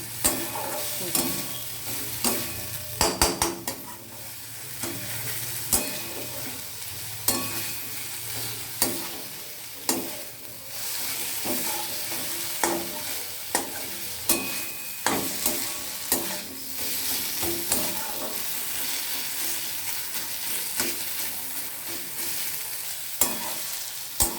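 Poppy seeds (posto) fry in a pan with a steady soft sizzle while a spatula scrapes and stirs in irregular strokes, each scrape a sharp close tap over the continuous hiss, with no talk.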